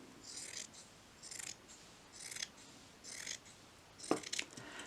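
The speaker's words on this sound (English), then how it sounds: "Then cut it up into strips." Scissors cutting fleece blanket fabric into strips, five slow rhythmic snipping strokes with a soft rasping swish, close but quiet, no voices.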